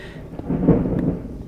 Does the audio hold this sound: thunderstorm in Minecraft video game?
yes